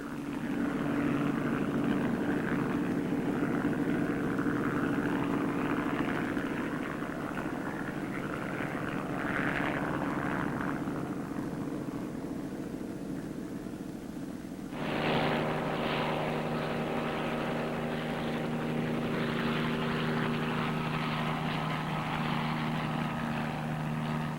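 A Marine military helicopter in flight, its steady droning engine and rotor hum continuous and fairly loud throughout, with the tone shifting noticeably partway through as it passes or changes position.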